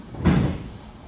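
A Miata headlight motor swings the headlight door shut on a Mercury Cougar in one close, low mechanical thunk with a short rumbling close, then quiet.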